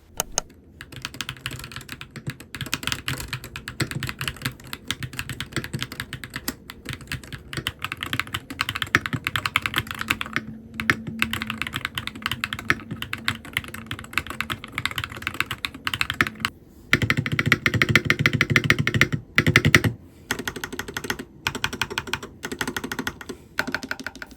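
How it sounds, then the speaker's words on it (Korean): Typing on an MCHOSE ACE68 magnetic-switch keyboard, a close, steady patter of fast keystrokes with brief pauses and a few heavier clacks, like a space bar or enter key. "타건음 간단하게 들어보고"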